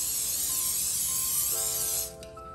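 A continuous spray of cooking oil onto chicken wings for an air fryer hisses close by for about two seconds, then cuts off, leaving a faint electronic hum.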